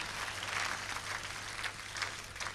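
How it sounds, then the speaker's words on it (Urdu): Faint, steady applause from an audience welcoming a poet at a Republic Day kavi sammelan in Dubai, a soft wash of clapping that swells slightly at moments, heard alone beneath a low hum. "آپ تالیوں سے ان کا استقبال کریں"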